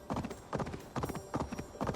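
A horse's hooves clop in a steady rhythm while it is ridden along a road in the video game Assassin's Creed Valhalla, with four clear groups of footfalls over two seconds, close and moderately loud.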